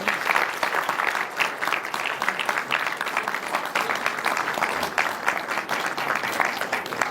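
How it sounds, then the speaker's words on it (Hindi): Loud, sustained applause from a large audience at a Sahaj medical seminar, dense steady clapping throughout with no pauses or voices standing out. "जोरदार तालियां।"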